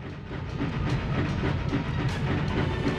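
Train rolling along rails in the 1998 video game MediEvil, a loud continuous rumble with rhythmic clickety-clack and hiss, steady throughout with no voices.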